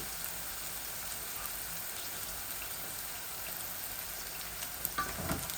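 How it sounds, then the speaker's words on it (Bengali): Onions fry in a pan with a faint, steady hiss of sizzling oil and a few soft crackles, with no voices. "এই পেঁয়াজগুলা ভাজা ভাজা হয়ে যাক আর একটু"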